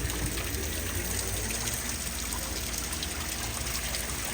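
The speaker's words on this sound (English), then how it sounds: "This little pool here with a waterfall." Steady rushing and splashing of water from a small waterfall pouring into a pool, continuous and fairly close, with no voices.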